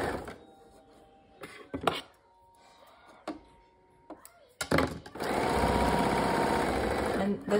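A sewing machine backstitching a 1/4 inch seam on a mesh snack pack, first some short clicks and handling sounds, then a loud continuous whirring run of stitching close by for the last few seconds.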